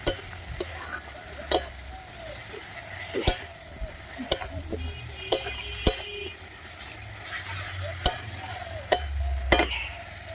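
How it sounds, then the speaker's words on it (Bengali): A spice paste with a splash of water frying in a pan for a village-style desi chicken curry, a low steady sizzle under sharp, intermittent scrapes and taps of a spoon stirring it, close up and without talk. "জল দিয়ে দিচ্ছি, দিয়ে মশলাটাকে ভালো করে এবারে কষিয়ে নেব"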